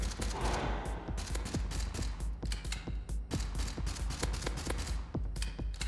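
Rapid gunshots from Gunpunk ring out in a fast, nearly continuous volley of sharp cracks over a dense mechanical backdrop, loud and close.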